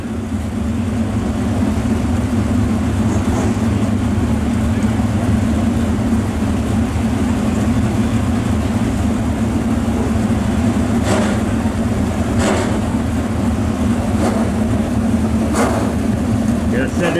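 Street stock race cars qualify two at a time at Cochran Motor Speedway, their engines droning steadily with a low, sustained growl and several brief revving surges near the end, with a voice speaking over them.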